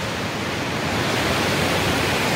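River water rushing along a rocky stream in the Nepal hills, a dense, steady, broadband roar with no breaks, close and loud.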